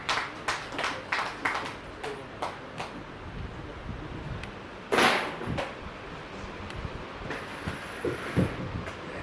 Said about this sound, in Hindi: ताली बजाकर प्रभु के दास का स्वागत करें।